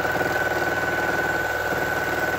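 A Janome 1600P sewing machine on a 10 ft Hinterburg quilting frame runs through free motion stitching with a steady, continuous mechanical whirr and hum, close and alone without any talking.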